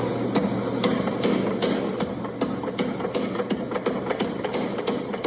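A power hammer pounds metal in a fast, steady run of heavy strikes over a constant mechanical hum, loud and close.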